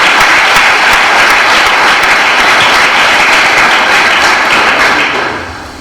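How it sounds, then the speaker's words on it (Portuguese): Church congregation gives a round of applause for Jesus, dense steady clapping from many hands filling the room before fading out at the end. "Vamos dar salva de palmas para Jesus."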